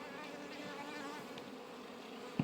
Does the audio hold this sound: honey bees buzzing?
yes